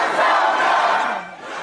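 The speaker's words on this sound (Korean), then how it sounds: "지지자들이 환호합니다." Political supporters occupying the offices of South Korea's National Human Rights Commission cheer and shout loudly together. The crowd roar holds, then dips briefly near the end.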